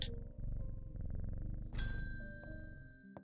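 A cat purring when patted in the video game Strange Horticulture, a low, steady rumbling purr followed by a bright chime-like ding that rings out and fades.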